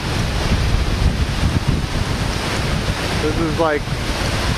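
Strong wind of about 45 mph blows across Lac Courte Oreilles in early June, a loud, constant roar with buffeting on the microphone, while a voice speaks briefly near the end.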